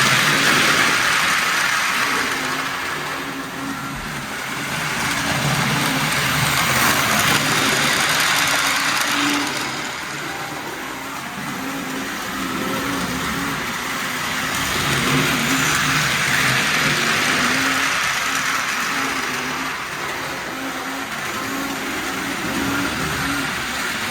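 A Tyco HO scale GP20 diesel model locomotive runs on its track, producing a steady electric motor whir that gently swells and eases over time, close and fairly loud with no voices.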